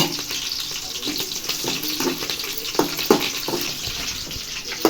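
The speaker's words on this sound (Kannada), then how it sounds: "ಇದಿಷ್ಟಕ್ಕೆ ಸ್ವಲ್ಪ ಫ್ರೈ ಮಾಡ್ಕೊಳ್ಳಿ" Green chilies, garlic, dry red chilies and curry leaves frying in hot oil give a loud, dense sizzle with a watery hiss, joined by a few sharper stirring knocks near the end.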